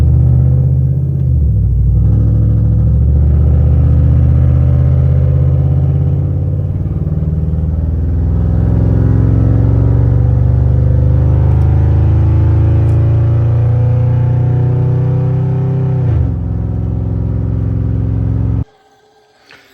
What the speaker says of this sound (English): we're gonna take off in the work truck